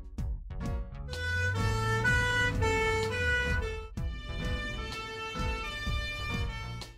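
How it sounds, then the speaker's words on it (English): An ambulance siren wails loudly and close by, its tones shifting against a background of regular thumping beats. "Ambulance"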